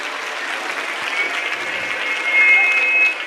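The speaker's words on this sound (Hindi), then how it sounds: "एक बार जोरदार तालियों से" Sustained applause from an audience at a Sanatan religious gathering, welcoming a revered guest; dense, steady clapping swelling louder near the end, with a voice briefly audible over it.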